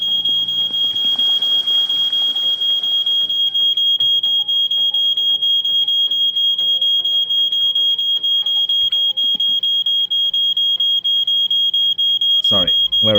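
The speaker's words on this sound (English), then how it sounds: "That's the alarm going off." A smoke alarm goes off in the video game My Winter Car, a loud, steady high-pitched beep that holds unbroken throughout, with a voice and faint clatter underneath.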